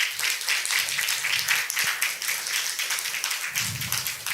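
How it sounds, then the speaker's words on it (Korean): A church congregation gives sustained applause to welcome a new youth pastor. Dense clapping carries on steadily throughout, with a few low murmurs underneath. "우리 교회 오시게 되어서 환영한다고 우리 큰 박수로 환영하시겠습니다"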